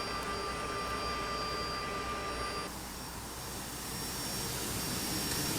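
Hydraulic pumps 1A and 2A on a simulated CRJ200 airliner drone with a loud, continuous whine and hum, with a thin tonal layer that shifts in character partway through.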